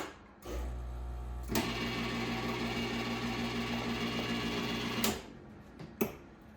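An Azkoyen espresso machine kicks on with a brief thump, then its pump buzzes in a steady rhythmic hum for several seconds before shutting off with a click and a couple of faint knocks.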